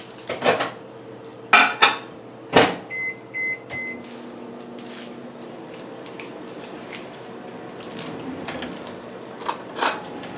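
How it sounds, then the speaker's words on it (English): A microwave oven hums quietly while melting vegan margarine for dairy-free chocolate peanut butter squares. Several sharp clanks of dishes and cutlery come first, then the steady drone runs alone, and a couple more clatters follow near the end. "So I'm just going to pop this in the microwave for 30 seconds till it's completely melted"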